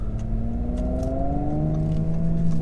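A 2017 Audi S4 engine pulls and revs up steadily, its note rising in pitch as it accelerates, loud and continuous with no talking.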